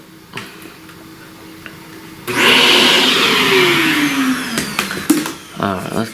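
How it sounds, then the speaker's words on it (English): A small vacuum switches on partway through and runs with a steady whining roar as it removes pastel dust from a flower drawing, with a rising tone and some clicks and handling noises near the end. "let's vacuum that."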